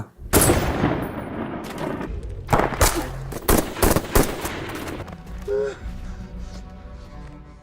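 Loud burst of gunfire in a film firefight among rocks, with rapid automatic volleys and sharp separate shots over about five seconds, then fading to a quieter rumble; faint voices underneath.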